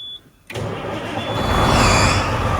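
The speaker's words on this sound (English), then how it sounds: "That's the Detroit sound I was looking for." A Detroit diesel engine in a semi heavy wrecker truck cranks briefly, then fires and catches, settling into a loud, close, rising rumble with a hissing top.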